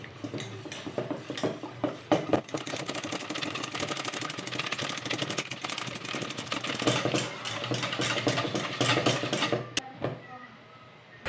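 A custard mixture of eggs, condensed milk, evaporated milk and cornstarch is stirred briskly in a bowl for custard cake, giving a dense, steady scraping and clinking that runs unbroken for several seconds, then stops abruptly. There is no talk.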